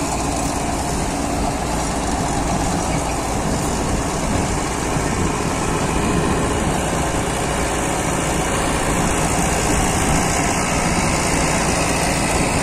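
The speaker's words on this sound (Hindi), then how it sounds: "ट्रैक्टर बिल्कुल खुल गया चल रहा" A Powertrac Euro 60 Next tractor's diesel engine runs steadily at a constant rumble, loud and close, with no pauses.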